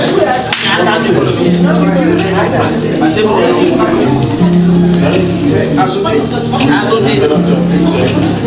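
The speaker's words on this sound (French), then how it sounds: "On applaudit très fort mon association." An audience applauds an association at an investiture ceremony, with scattered, sharp hand claps and intermittent rhythmic clapping mixed into loud talking and crowd chatter, plus a repeating low tone in the background.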